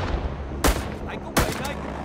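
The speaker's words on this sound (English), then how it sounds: "We're just doing some M1 carbine sniping" Two sharp, loud rifle shots from an M1 carbine used for sniping in the Vietnam-era video game Rising Storm 2, spaced under a second apart over a rumbling battlefield background.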